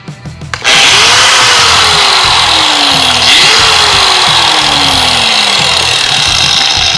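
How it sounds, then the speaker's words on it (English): A grinder switches on in a workshop, jumping almost at once into a loud, continuous high whine with a gliding pitch that holds steady and close throughout. "Easiest way to get Casey's attention in the shop: turn a grinder on."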